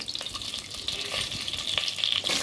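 Whole spices such as cardamom and shahi jeera frying in hot oil for veg pulao, a continuous close sizzle with occasional small pops and stirring, no talking.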